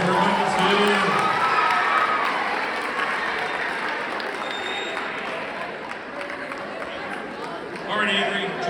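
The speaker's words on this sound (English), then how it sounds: "Round of applause for number 2." Clapping and cheering from a school assembly audience of eighth graders, strongest at the start and fading, with a burst of crowd noise and voices near the end.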